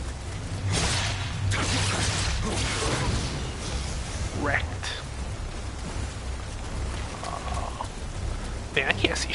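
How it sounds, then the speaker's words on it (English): Rain pours steadily in the samurai action game Nioh, a continuous broadband hiss with occasional whooshes and clanks from the game, heard under a player's talk. "I can't see shit in this rain"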